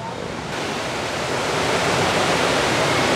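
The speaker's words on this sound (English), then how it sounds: "I can hear the waterfall from here." A steady, loud roar of Camly Waterfall in Da Lat, Vietnam fills the clip, a continuous broadband rush that grows slightly stronger over the few seconds, with no talking.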